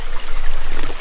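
Rushing water from a waterfall in the Marunthukottai Hills, a steady broadband roar with no clear breaks, close and loud.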